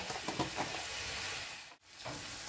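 Spice paste with a little coriander powder sautéing in a pan for Bengali doi maach with rui fish, a steady close sizzle with soft stirring scrapes and a brief pause near the end.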